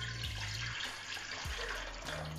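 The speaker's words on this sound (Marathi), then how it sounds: "याच्यामध्ये 1 तांब्या पाणी घालते।" Water from a small metal vessel poured into a cooking pot while making jaggery kharvas, a steady splashing, gurgling stream that runs close and continuous, with no talking.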